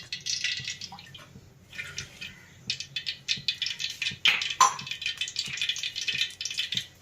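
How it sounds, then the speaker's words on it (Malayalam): Coconut oil poured into a heated pan for Kerala-style rambutan pickle makes a close, bubbly patter. The light spattering and crackle come in uneven bursts for about seven seconds, with no voices. "പാത്രം ചൂടായി അതിലേക്ക് നമുക്ക് എണ്ണ ഒഴിക്കാം."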